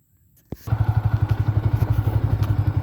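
A manual-clutch motorcycle fires up with a sharp thump, then its engine settles into a loud, evenly pulsing putter, heard close up as it rolls slowly along.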